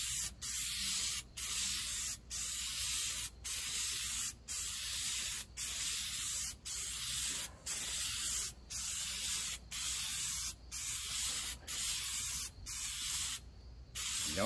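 An aerosol can sprays coating onto deep drop fishing weights in a long series of short, steady hissing bursts with brief gaps between them, close and loud.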